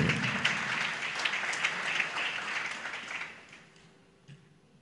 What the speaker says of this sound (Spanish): El aplauso correspondiente para él.